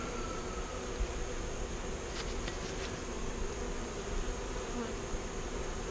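Italian honey bees hum steadily at close range while nucs are installed into hives, a soft continuous buzz with a few brief higher tones and no talking.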